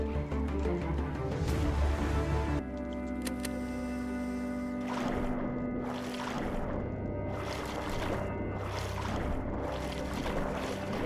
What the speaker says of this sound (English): That's a tsunami.